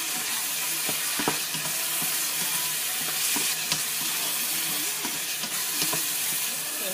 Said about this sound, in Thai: ก็ผัดเร็วๆ